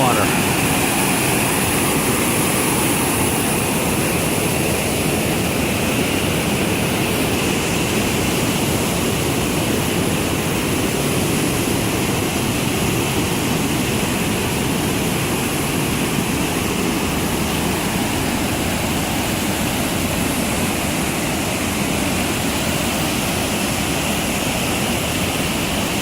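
River rapids in Kennedy Meadows, California, swollen with snowmelt, give a steady, loud, broadband rushing roar that holds unchanged from start to finish, with no voices above it.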